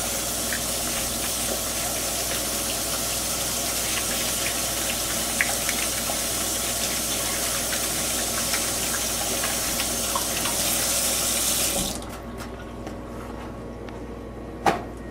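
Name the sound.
washing hands under running tap water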